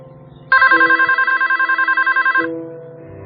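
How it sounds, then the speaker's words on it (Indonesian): A telephone rings with a rapid trilling bell in one long burst, loud and close, with no voices. "Beberapa kali telepon itu berdering."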